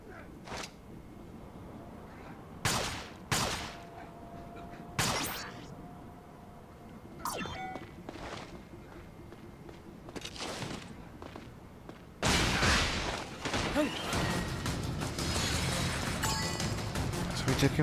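Makeshift bomb going off in the action game The Last Story: scattered sharp thumps and crashes amid game sounds, then a heavy sudden blast and sustained loud rumble near the end, with someone talking at times.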